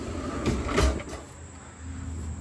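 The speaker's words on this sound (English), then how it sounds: "I'll just tuck it in here and then close the galley door" A teardrop camper's galley door swings shut, a single soft thud near the middle followed by a faint rattle, heard up close with no talking.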